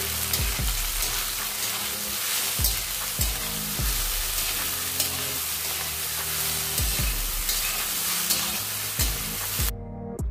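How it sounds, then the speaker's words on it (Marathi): Cut okra (bhindi) stir-frying in a pan with green chillies for a Maharashtrian bhaji, a loud steady sizzle broken by repeated scraping strokes of a spatula against the pan, close and continuous with no talk. "यामध्ये आपण कट करून घेतलेली भेंडी घालून घेणार आहोत। आणि यालाही छान असं परतून घेणार आहोत।"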